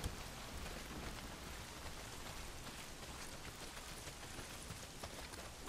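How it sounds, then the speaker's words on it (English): Rain falls steadily in the video game Days Gone, a soft, even hiss of drops landing on surfaces. It is faint and continuous, with no voices. "Well, not if it's pissing down rain."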